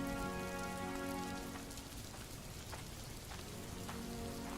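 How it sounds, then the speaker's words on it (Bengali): Heavy rain falls steadily and densely on a cold winter day with a chilly wind, a continuous hiss that fills the clip, with a faint sustained tonal hum in the first part. "এত বৃষ্টি আমি আমার জীবনে দেখিনি গো"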